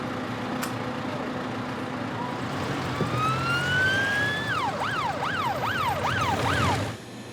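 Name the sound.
ambulance siren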